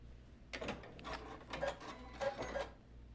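A sewing machine's automatic needle threader being worked, giving close mechanical clicks and short whirring bursts in a quiet room, several in a row.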